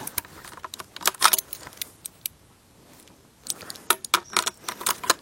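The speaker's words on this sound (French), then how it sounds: "on ramène la culasse en arrière, on appuie sur la détente et on peut alors retirer la culasse" Bolt being pulled back and removed from a Mosin Nagant rifle, heard as bursts of sharp metallic clicks and rattles with a quiet pause between, close and fairly loud.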